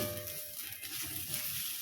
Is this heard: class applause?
no